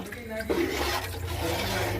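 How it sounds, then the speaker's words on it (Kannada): Water is poured from a small pot into a cooking vessel in a home kitchen, a close, continuous rushing splash lasting about two seconds, with a brief voice at the start. "ಈಗ 2 ಚಂಬು ನೀರು ಹಾಕ್ತೀನಿ."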